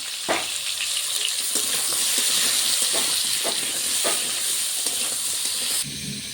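Pointed gourd (potol) frying in hot oil, a dense, loud hissing sizzle with scattered crackles and stirring scrapes, close-up and continuous until it drops away at the end.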